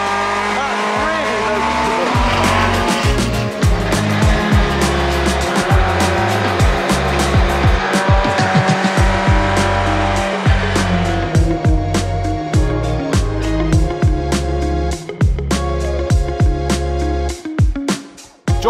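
A BTCC hybrid race car with turbo boost and an electric motor accelerates hard at the Brands Hatch Indy circuit, its engine roaring loud and close through repeated gear changes and rising revs, with tyres squealing at moments.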